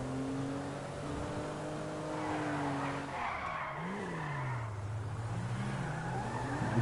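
Car engines and tire noise from traffic in GTA 5, a vehicle driving past with a rising and falling engine tone over steady road and skidding sounds, fairly loud and continuous, no talk.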